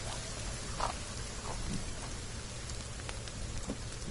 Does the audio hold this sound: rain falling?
yes